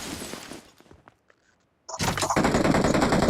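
Gunfire erupts as a loud, dense burst of rapid shots after a near-silent pause, following a fading stretch of earlier noise.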